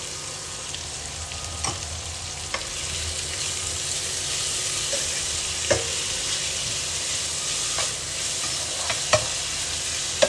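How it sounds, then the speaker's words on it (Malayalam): Sliced onions and green chillies sauté in a pan with a little salt for a chicken stew, giving a steady soft sizzle broken by a few sharp clicks and scrapes of stirring, close and with no talking. "നല്ലപോലെ വഴറ്റിയെടുക്കാം കേട്ടോ"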